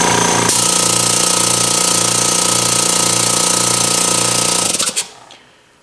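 An air compressor fitted with a Direct Air freewheel unloader valve runs loud and close with a steady rhythmic pumping drone, then shuts off abruptly near the end and leaves a brief fading hiss.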